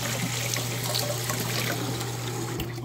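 A steady stream of tap water running at a kitchen sink while a spoon is washed, continuous and close with a constant low hum beneath it.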